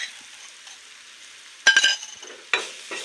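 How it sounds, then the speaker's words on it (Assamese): Onions with crushed garlic and ginger frying in oil in a pan for matar paneer, a low steady sizzle broken by two louder bursts of stirring and clinking against the pan. "এয়া মই এতিয়া তেলতে ইয়াত এই পিঁয়াজখিনি লগতে ৰং অলপ দি দিছোঁ।"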